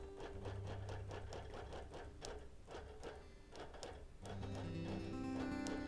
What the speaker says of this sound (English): Right now I'm stitching really close to the edge.